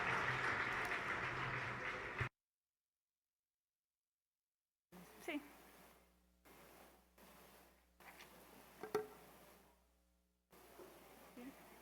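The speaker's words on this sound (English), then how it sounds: "So a round of applause." An audience at a port industry panel applauds loudly and nearby, the clapping dense for a couple of seconds and then cut off, followed by quieter room sounds, rustling and a voice.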